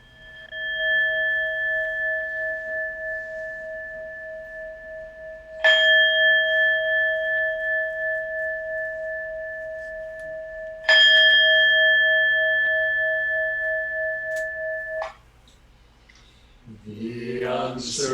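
Bells ring for a Zen Dharma chanting service, three clear struck tones a few seconds apart, each ringing out with a long sustained decay in a quiet room before faint movement at the end.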